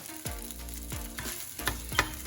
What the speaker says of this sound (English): I'm gonna add in the 2 cups of cooked rice.